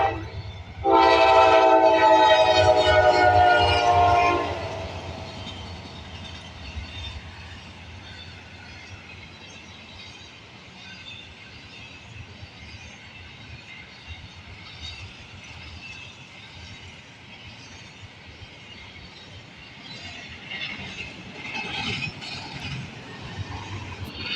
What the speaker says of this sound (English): an eastbound intermodal with 2 C6Ms